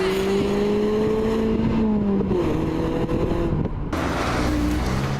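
A Mazda MX-5 two-seater roadster drives with a steady, close engine drone whose pitch sags and shifts as it runs, ending in a lower tone.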